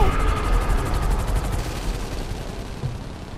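A helicopter's rotor chops loudly and steadily in the GTA V video game, a dense continuous roar with rapid gunfire-like rattling mixed in.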